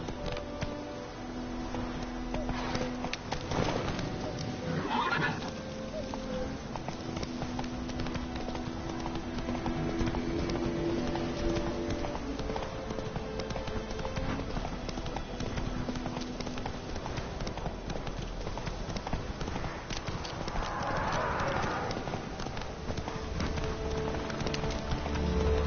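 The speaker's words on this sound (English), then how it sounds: "Giddy up. Whoa there, Roach" A horse gallops in The Witcher 3 video game, a steady rhythmic clip-clop of hooves running continuously under ambient rain-like noise, with only faint traces of voice.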